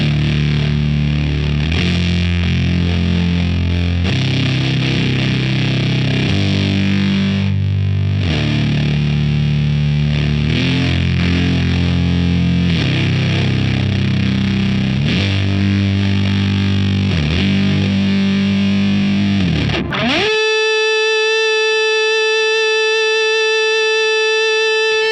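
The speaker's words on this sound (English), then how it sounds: "You can get away with just playing those two lead tones, the overt guitar tracks." Heavily distorted electric guitar plays sustained lead notes over a thick, loud texture, ending with a single ringing, buzzing tone.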